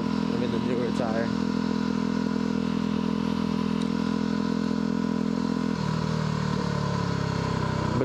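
A motorcycle rides along, its engine droning loud and steady up close with road rumble and clatter, the pitch shifting partway through as the rider changes speed; no talking is heard.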